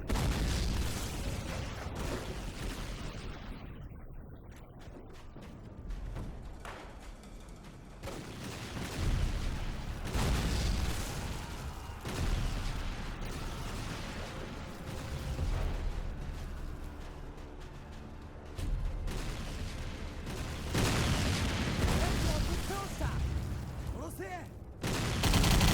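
Grenade blasts and gunfire in a shooter video game, with booming explosions and bursts of shots recurring through a loud, dense battle mix, with a voice talking over parts of it.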